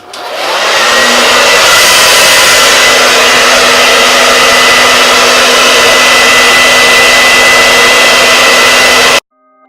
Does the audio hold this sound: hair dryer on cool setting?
yes